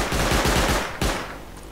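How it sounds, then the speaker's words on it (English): Automatic rifle fire rattles in the survival video game Rust, with AK bursts during a raid, a loud rapid stream of shots that stops, then one more short burst, close and with no talking. "Shooting."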